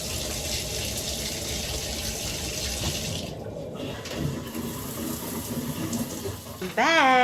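Steady rushing of running water from a shower, continuous and close for several seconds, with a brief squeaky tonal sound near the end.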